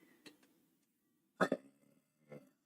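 Short, quiet belches after eating leftover brisket, one small burp early, then a stronger double burst in the middle and a softer one near the end, heard close in an otherwise quiet room.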